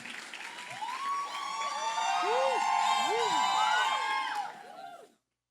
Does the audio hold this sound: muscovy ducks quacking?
no